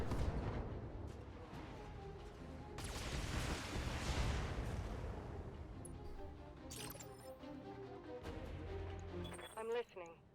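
Weapon fire in the mech combat video game BattleTech, a Gauss rifle shot: a heavy, broad roaring blast that swells and lingers amid dense game noise, with someone talking over it.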